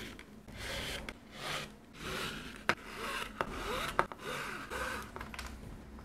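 Leather pieces for a strawberry-shaped bag are sewn together by hand, heard as soft, repeated drawing and rubbing strokes of thread through leather, with a few sharp clicks and taps.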